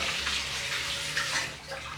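Steady running water pours during a child's bath, a continuous broad splashing rush from a tap or dipper that holds for about two seconds before a brief knock at the end.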